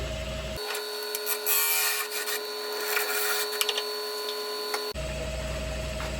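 Gouge cutting a sycamore salad bowl spinning on a wood lathe, a steady close scraping whir with a constant motor tone, starting and stopping abruptly.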